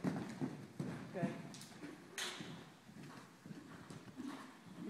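A horse canters in an arena during a riding lesson, its rhythmic hoofbeats soft and fairly distant, with an instructor talking over them.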